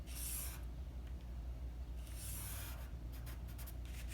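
A pencil draws a line across a paper sewing pattern while a princess bustier dart is drafted, giving quiet, close scratchy strokes in two or three short bursts.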